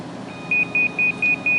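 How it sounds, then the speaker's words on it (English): Five short, high electronic pre-alarm beeps from a Screaming Meanie timer in a quick even rhythm, clear and close over a faint background hum. "That's the second pre-alarm."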